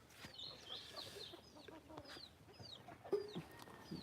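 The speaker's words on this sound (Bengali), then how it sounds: "এই মুরগিগুলো এই মুরগি বাচ্চাগুলো" Backyard hens and young chicks clucking and peeping in a pen, faint and scattered over a low background hum, with occasional short calls.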